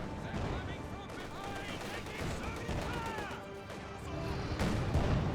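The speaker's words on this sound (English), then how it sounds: "T-70 getting some shots on the MG." Tank cannon and machine-gun fire in a Company of Heroes 2 battle between a Soviet T-70 and SU-76 and German StuG E and infantry, a steady mix of distant bursts and impacts over battle noise, with voices in the background.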